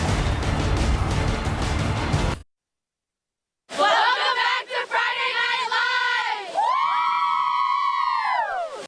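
A high school football crowd in the CIF Central Section quarterfinals for the Liberty Patriots roars and shouts loudly, followed by a short silence, then renewed cheering with rising and falling whistles or horns under excited voices.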